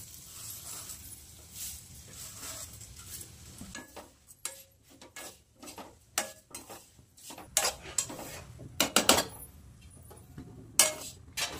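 Poha roasting in ghee in a pan on a gas stove, with a soft sizzle and repeated clinks and scrapes of a spoon stirring against the pan, close and fairly quiet.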